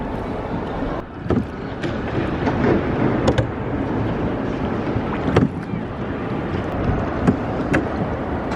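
A small boat moving over choppy salt water in the Salina Turda salt mine in Romania, with wind buffeting the microphone and occasional knocks and splashes against the hull.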